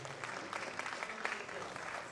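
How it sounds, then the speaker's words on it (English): Applause from an audience at the DSK Mega Finals 2015 winner declaration, honoring Naseem Sheikh: a steady, dense wash of clapping at moderate distance, somewhat faint, with crowd noise mixed in throughout. "Give him a big round of applause"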